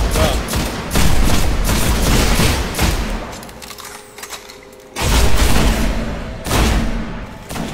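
Grenade explosions and rapid gunfire in the shooter game Destiny, a loud barrage of booms and shots that drops off briefly at the midpoint and then bursts back strongly.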